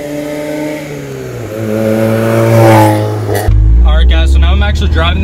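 A supercharged 1991 Mazda Miata engine pulls through the gears on the road, its note climbing steadily then dropping on a shift before revving up again, loud and close from inside the car.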